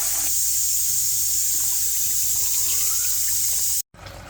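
Hot water runs steadily from a kitchen tap to soak lentils, a continuous close splashing hiss that stops abruptly near the end, with no talking.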